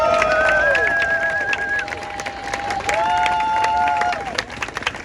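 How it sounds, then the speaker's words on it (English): Audience at a street protest rally breaks into steady, loud applause with crowd cheering, mixed with sustained whistle-like tones that rise and fall through the noise. "Can we give him a round of applause?"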